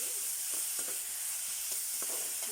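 Curry leaves sauté for tomato chutney in a hot pan, giving a soft steady sizzle with faint stirring scrapes and taps throughout.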